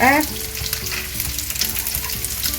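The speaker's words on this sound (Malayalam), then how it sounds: "നല്ലോണം തിളച്ച് വന്നിട്ടുണ്ട്" Malabar red-chili fish curry with mango bubbles hard in a pan, giving a continuous close sizzle and crackle that opens with a brief rising squeal.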